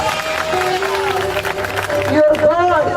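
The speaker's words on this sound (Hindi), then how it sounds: "जोरदार प्रभु के ताली बजाओ" A congregation at a church service claps and cheers for God, a dense continuous wash of applause and crowd noise with voices mixed in throughout.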